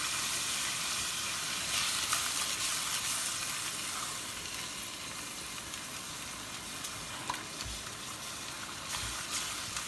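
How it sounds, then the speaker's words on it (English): Mince simmering with beef stock in a sizzling pan gives a steady, close frying hiss throughout, with a few faint stirring scrapes and no talking. "Give it a wee stir."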